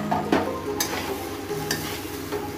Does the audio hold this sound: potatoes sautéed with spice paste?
yes